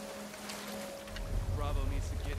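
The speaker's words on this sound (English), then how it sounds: "I'm sure it ain't easy driving a boat back here." A boat engine rumbles low and steady in The Last of Us Part II, growing louder partway through, with water sloshing and a voice talking over it.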